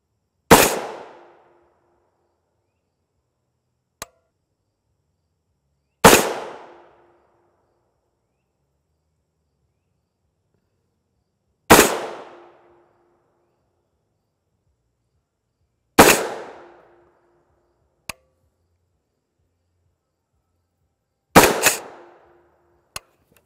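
Rifle shots, including Swiss PAP tungsten-core rounds and 7N6, strike a Hesco 3611C Level III+ body armor plate: five sharp, loud cracks spaced several seconds apart, each with a short decaying ring, plus a few faint distant ticks between.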